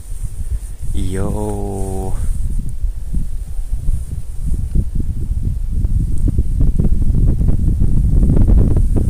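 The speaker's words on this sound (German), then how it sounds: "in der Ferne hört man so irgendwie so ein bisschen den Wind wehen" Wind blowing outdoors on a snowy day, a constant low rushing and buffeting roar that swells louder toward the end, with a voice speaking briefly near the start.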